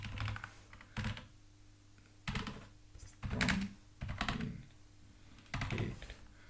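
Keys on a computer keyboard clatter in short bursts of quick typing separated by brief pauses, close and fairly quiet, with no talking.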